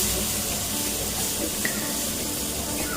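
Water pours into a simmering paneer curry with tomato and cashew paste, a steady, even splashing hiss that runs unbroken and fairly close, with no voices.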